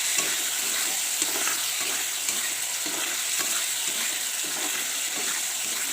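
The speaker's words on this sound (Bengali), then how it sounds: "পনিরগুলো ঢেলে দেবো দিয়ে কষাকষি করবো একটু হালকা জল দিয়ে দিই" Paneer curry sizzles steadily in a pan while a spoon scrapes and stirs through it with a rhythmic scraping, a continuous close, fairly loud frying hiss with no voices.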